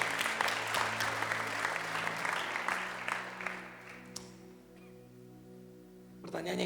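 Audience applause at a worship night fills the first four seconds as dense, steady clapping over sustained music, then fades to soft lingering music before a brief swell at the end.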